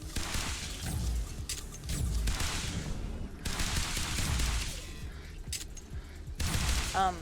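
Rapid gunfire bursts from the video game Beacon, mixed with explosive booms from a grenade, loud and repeated across the clip, with brief pauses between volleys.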